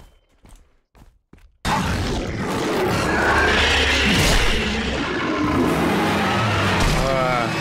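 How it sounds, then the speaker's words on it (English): A repaired car engine in The Rake video game roars to life after a few quiet seconds, then runs loud and continuous with a broad, rumbling drone until the end. "I repaired the car."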